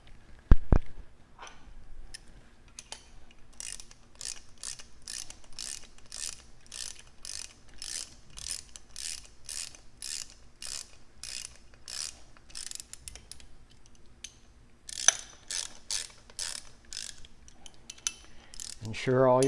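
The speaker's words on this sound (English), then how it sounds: "Ensure all your bolts are torqued down properly." A ratchet wrench tightening the top-plate bolts on a Model 441-57S regulator during a diaphragm replacement: crisp, regular clicking in long runs, close and clear, pausing briefly before a final burst.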